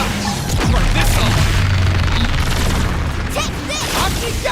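A loud explosion goes off in the Xenoblade Chronicles X video game, with a deep booming burst and crashing debris over dense battle noise, followed by further impacts and game effects.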